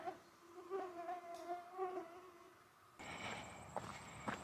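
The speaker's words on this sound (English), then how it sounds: "I'm getting attacked by mosquitoes." Mosquitoes whine around a hiker on the Appalachian Trail, thin buzzing tones rising and fading close to the ear, followed by faint rustling and footstep-like movement, quiet overall with no talking.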